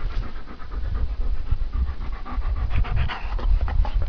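A goat-herding dog pants rapidly and steadily up close, quick rhythmic breaths continuing without pause and no talking.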